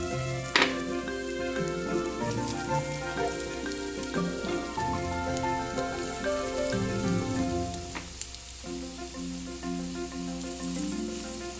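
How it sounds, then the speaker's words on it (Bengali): Prawn fritters for chingri macher bora slide into hot white oil and fry, a steady crackling sizzle like rain with many sharp pops throughout, close and fairly loud, with no talking. "এবার আমি বড়াগুলো ছেড়ে দিচ্ছি।"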